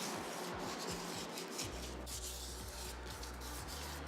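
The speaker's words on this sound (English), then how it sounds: "once you're happy that you've sanded off all of those sharp edges" Sandpaper rubbing the edges of a resin bangle, a close, dry, rasping scrape repeated in short strokes, with a low rhythmic thudding underneath.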